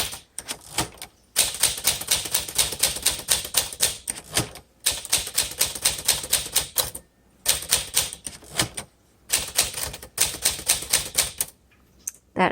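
Keys striking on a 1952 Smith Corona Silent manual typewriter, a steady run of rapid, crisp clacks in bursts separated by short pauses, close and fairly loud with no talking.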